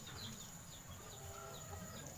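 A rooster among a backyard flock of chickens, including leghorn hens, makes soft clucking and fowl calls over steady outdoor background noise, with no clear crow standing out.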